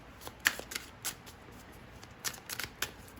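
Tarot cards being shuffled, a quiet series of crisp riffling snaps and flicks in irregular bursts, heard alone and close.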